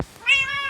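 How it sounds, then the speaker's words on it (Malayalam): A cat gives a single clear, drawn-out meow indoors, close to the microphone, with the call rising and then holding steady after a brief click at the start. "ഈ പൂച്ചകളൊക്കെ എൻ്റെ ബെഡിലാണ് വന്ന് കിടക്കണം."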